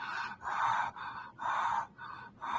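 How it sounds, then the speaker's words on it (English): Four short, rapid mouth breaths come in an even rhythm, each a breathy rushing puff close to the listener, separated by brief pauses. "So if we were breathing through the mouth, it would sound like this."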